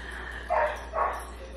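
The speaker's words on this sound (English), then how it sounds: "This dog outside." A dog barks outside, two short muffled barks about half a second apart, heard through a room over a steady low hum, moderately distant.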